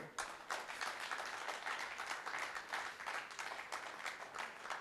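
Sustained applause from an audience at a Hindi memorial lecture event, dense steady clapping of many hands filling the whole stretch without a break.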